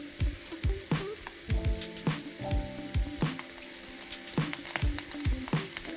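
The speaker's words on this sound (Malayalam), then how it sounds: "അല്പം എണ്ണ ഒഴിച്ചു കൊടുക്കുക" Oil poured into a hot pan while making chicken kachori, sizzling under a series of sharp, rhythmic clanks and scrapes of a utensil against the pan, close up and fairly busy throughout.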